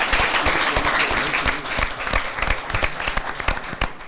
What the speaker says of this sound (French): Merci de l'applaudir très fort.